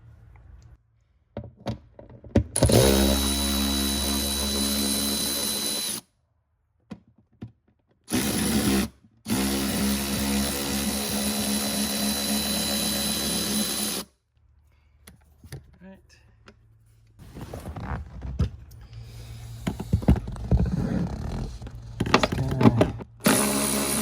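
Fasteners being removed from the underside panel of a Porsche Boxster 986, heard as bursts of buzzing power-tool noise and clunks separated by short silences, followed by scattered knocks and handling sounds near the microphone.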